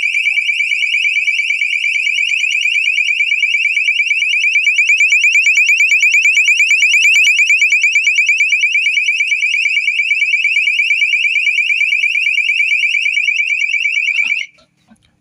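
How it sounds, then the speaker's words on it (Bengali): A motion-detector alarm meant to catch cattle thieves blares a loud, piercing electronic tone for about fourteen seconds without a break, then stops abruptly and leaves silence. "বিকট আওয়াজে অ্যালার্ম বাজলো এবং এটি কিন্তু কিছুক্ষণ পরে অটোমেটিক অফ হয়ে গেল"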